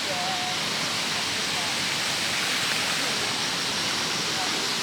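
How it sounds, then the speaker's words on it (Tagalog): Water in a creek rushes steadily with a dense, unbroken hiss, loud and close throughout, with no distinct voices standing out. "andito na kami sa sapa"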